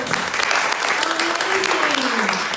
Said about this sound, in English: Can I get a round of applause?